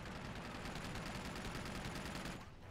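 Rapid automatic gunfire in the video game Uncharted 2: Among Thieves, a dense steady burst of shots that cuts off abruptly near the end.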